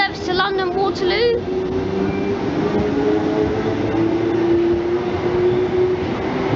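A South Western Railway train bound for London Waterloo rumbling along with a steady low drone and rising tonal whine, a brief voice at the start.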